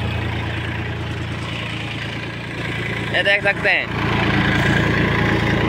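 A Massey Ferguson tractor pulling a cultivator through soil, its engine holding a steady low, droning hum for the whole stretch while someone speaks over it nearby.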